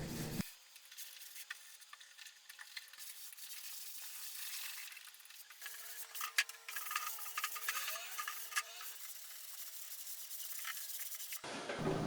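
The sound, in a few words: sanding furniture with a sanding sponge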